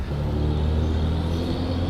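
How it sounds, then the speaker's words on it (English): Big truck rolling past on a street: a loud, low rumbling engine drone with steady harmonic tones, close by and sustained, no voices over it. "All right, big truck."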